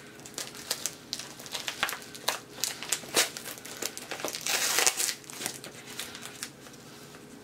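A thick taped padded envelope holding Pokemon cards is wrestled open, with close crinkling plastic, sharp crackles and tearing bursts in an irregular stream, loudest near the middle, with no talk.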